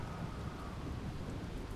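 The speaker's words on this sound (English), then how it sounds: "Nice bit of rain." Rain falls in the Jenny LeClue video game as a steady, dense hiss with a low rumbling undertone, unbroken and even throughout.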